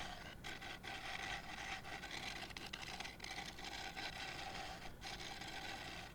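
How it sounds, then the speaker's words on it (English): A small gouge works wood on a lathe, roughing out a round mallet, with a steady, continuous rasping scrape that stays loud and even, broken only by brief dips in intensity. "I'm essentially using the small gouge for the bulk of this sort of initial rough pass."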